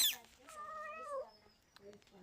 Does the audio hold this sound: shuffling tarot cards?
no